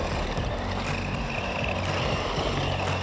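A 1993 RC car with a high-RPM motor drives continuously, its steady buzzing motor whine mixed with rolling noise, fairly close and even in loudness, with no talking.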